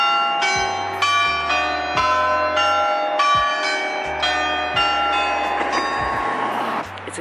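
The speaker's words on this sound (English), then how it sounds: "Just gonna wait to see if we're gonna chime the bell at 1:15." A village bell chimes at 1:15 in a steady, ringing sequence, each strike bright and resonant, with tones overlapping and decaying into one another, fairly close and loud.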